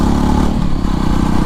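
Jawa Perak BS6 motorcycle engine running steadily, a loud, close exhaust note with a deep, even thump and slight mechanical clatter, no talk over it.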